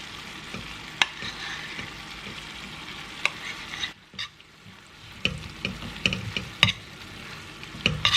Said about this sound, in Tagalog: Halo na natin tong peanut sauce na ginawa natin kanina